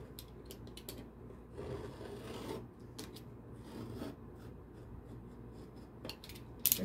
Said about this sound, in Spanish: Y vamos a cortar con nuestro cúter de este lado, que nos quede lo más derechito posible.